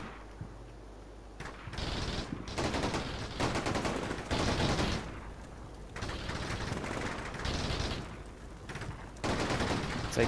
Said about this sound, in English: These guys are taking fire from the flank.